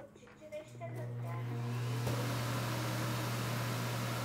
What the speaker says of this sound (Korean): 그리고 두 번째, 스테이션 소음인데 한번 들려드리면